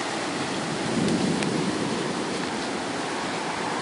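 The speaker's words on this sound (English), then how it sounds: "The rain's, there we go, rain's really picking up now too." Heavy rain pours steadily during a thunderstorm in Palmerston, a dense unbroken roar that swells slightly and holds at a loud, even level with no voices.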